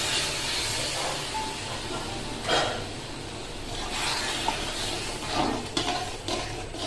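Milk hits a hot pan of semolina for a sweet sooji, a loud steamy hissing sizzle with several surging bursts and stirring noises throughout.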